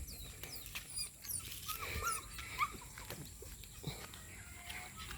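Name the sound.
dogs rummaging through plastic garbage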